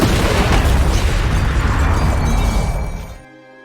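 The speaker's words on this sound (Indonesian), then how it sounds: "ternyata ledakan itu berhasil menghabisi semua CIA yang ada di sana" A loud, close explosion in an action film scene, a heavy roaring blast with debris rumble that sustains and then cuts off abruptly into quiet.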